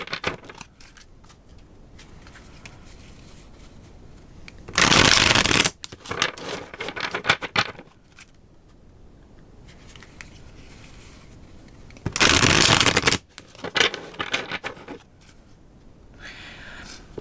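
Two loud bursts of a deck of reading cards being riffle-shuffled, each lasting about a second and followed by softer card handling and tapping, in a quiet room.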